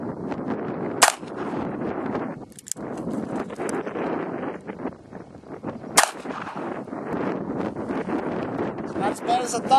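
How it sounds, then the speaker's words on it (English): Cobra Derringer pistol fired with 9mm and .38 Special rounds outdoors, two sharp loud shots several seconds apart amid wind noise and people talking. "We're going to shoot it with 9mm and 38 special today."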